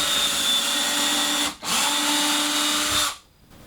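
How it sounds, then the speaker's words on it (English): A power drill bores pilot holes into wood for screws in a tiny house loft build, two steady high-pitched whirring runs separated by a brief pause, close and loud, ending as the motor winds down. "I'm going to put some pilot holes in here to help get the screws started."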